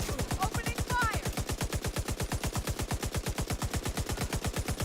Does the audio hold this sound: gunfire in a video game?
yes